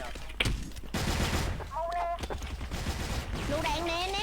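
Bursts of rapid gunfire in a video game shooting match, loud clustered shots alternating with quieter gaps while a player talks over the action.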